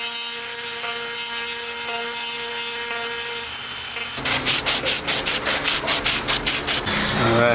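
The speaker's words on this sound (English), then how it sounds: "So I'm gonna use some 80 grit here, and then I'm also gonna use this Dremel with the stone bit." Hand sanding chipped paint on a Nissan 300ZX side skirt with 80 grit sandpaper, with a steady tonal hum first, then about a dozen loud rhythmic rasping strokes close by.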